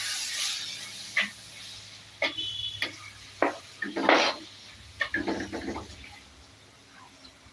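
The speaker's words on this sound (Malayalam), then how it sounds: "ഇനി നമുക്ക് ഇളക്കി കൊടുക്കാം" Fried chilli and coriander powder is stirred in a pan, giving scattered scraping and clinking strokes at an irregular pace over a faint sizzling hiss, close and fairly quiet, with no talking.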